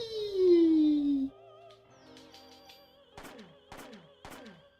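Gunshots in the video game Parasite Eve: a sliding synth tone and a few blips, then three sharp, evenly spaced shots ring out with echoing tails.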